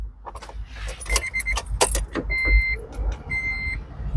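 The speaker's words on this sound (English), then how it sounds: "we're going to have a little key noise here" Keys jangle inside a Honda Element solo camper van, with several short metallic rattles spread across the moment, mixed with steady electronic chime tones from the vehicle and low cabin rumble.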